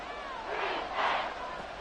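A stadium crowd in a Madden NFL football video game swells into a loud roar on third and long, a broad, distant wash of cheering that rises and falls without clear speech.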